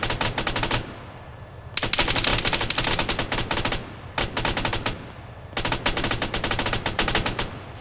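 A vehicle's coaxial machine gun fires at tyres in three long sustained bursts of rapid shots, loud and close, separated by short pauses in which a background hum remains.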